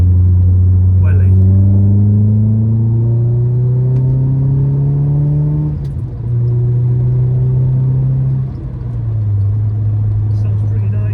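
A VW Golf MK2 GTI 16V with a custom exhaust accelerates hard on a motorway, its engine droning steadily upward in pitch through gear changes, loud and close from inside the car.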